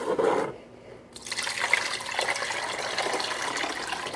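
Warm water pours steadily into a container, a continuous close splashing rush after a brief pause, with no talking.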